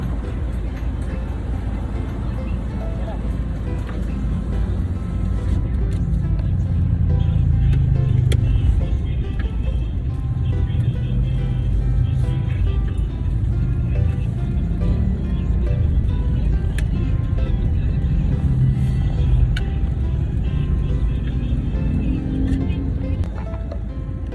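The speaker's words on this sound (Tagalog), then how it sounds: "Traffic." Steady road traffic heard from inside a vehicle stuck in slow-moving traffic, a continuous low engine and tyre rumble with cars passing and occasional faint clicks, no voices.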